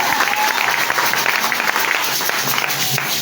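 A church congregation claps and applauds in one steady wash that lasts several seconds. The sound is fairly loud, and a faint murmur from the crowd runs underneath the clapping.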